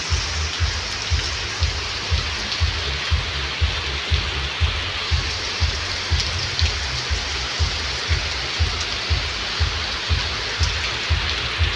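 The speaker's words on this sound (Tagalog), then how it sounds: "Malakas ang ulan." Heavy rain pours steadily on a rainy day in the countryside, a dense continuous hiss with a regular dripping or pattering pulse underneath, close and loud throughout with no voices.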